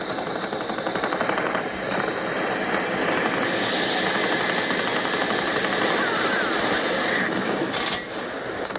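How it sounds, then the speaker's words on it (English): Anti-aircraft fire in a tank video game roars as a dense, continuous rattling burst of rapid shots, steady and loud throughout with no pauses. "Oh, there's anti-air firing at me."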